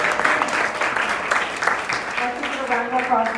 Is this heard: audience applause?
yes